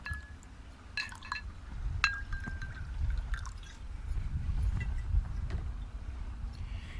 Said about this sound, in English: And then 1 1/2 ounce of rum. And we're going free pouring today